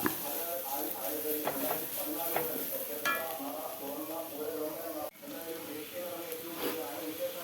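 Curry leaves sautéing in a pan ahead of eggs going in, with a steady sizzle and the scrape of stirring running throughout and one brief dip in the middle.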